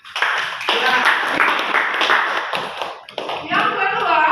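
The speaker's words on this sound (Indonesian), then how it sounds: "Tepuk tangan dulu, nak" Schoolchildren in a classroom clap their hands together in short, uneven bursts of close, sharp claps, with voices mixed in among them.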